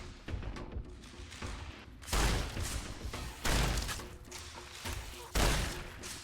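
A shotgun fires in Fallout: New Vegas, three heavy booming blasts spaced about a second and a half apart over a busy background of game noise and thuds, with no talking.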